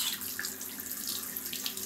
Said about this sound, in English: You hear the pipe I run?